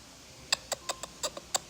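A person imitates the chirping call of a house gecko with the mouth, producing seven sharp, evenly spaced clicks in a quick series, close and clear, with no talking.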